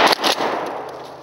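A gunshot rings out during a boys' shooting game: a sharp, close bang with a quick second crack right after, then a short fading tail.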